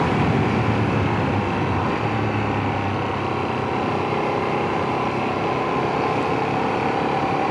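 A Ducati Streetfighter V2S motorcycle cruises along a road on a hot UK day, its steady engine drone blended with heavy wind rush, constant and loud throughout without speech.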